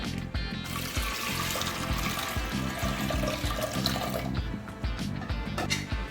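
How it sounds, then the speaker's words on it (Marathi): Water poured onto chickpeas in a pot, a continuous close splashing and gurgling pour lasting the whole stretch, with no talk. "ह्याच्यात आपण पाणी घ्यायचं"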